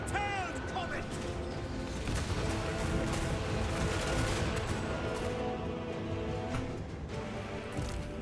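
Units in the fantasy battle game Total Warhammer 3 open fire in a sustained, crackling fusillade of rapid gunshots and impacts that keeps going for several seconds, loud and dense, with a voice talking over it.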